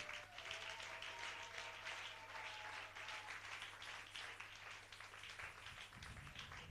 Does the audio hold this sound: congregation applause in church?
yes